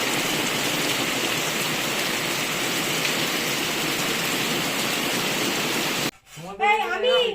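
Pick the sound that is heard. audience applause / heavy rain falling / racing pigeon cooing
heavy rain falling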